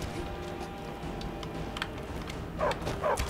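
In the video game Skyrim, a dog barks faintly a few times over quiet game ambience, with two sharper yelps near the end.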